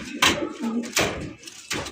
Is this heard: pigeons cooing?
yes